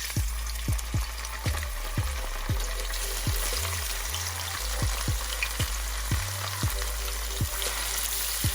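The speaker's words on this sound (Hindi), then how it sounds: "तो इसको शैलो फ्राई करेंगे हम।" Food sizzles steadily in a pan as it is shallow fried with masala and lemon juice sprinkled over it, with regular soft clicks from stirring or turning throughout.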